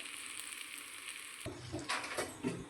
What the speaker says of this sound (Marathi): तर मी यामध्ये पाणी टाकून घेतलेलं आहे.